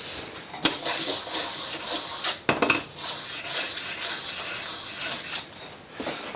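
Scratching the piston surface of a vintage Ohlins motorcycle shock by hand, a steady close scraping and rubbing of metal with brief pauses and a few sharper clinks, no talking.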